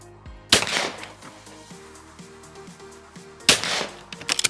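Fausti XF4 shotgun fired outdoors at clay targets: two loud single blasts a few seconds apart, each with a sharp crack and short decaying tail, with no talking.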